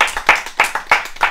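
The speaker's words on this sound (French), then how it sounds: "On peut s'applaudir." A small group of nursing-home residents claps for themselves, a handful of close, distinct hand claps in a quick irregular rhythm, each one sharp and separate.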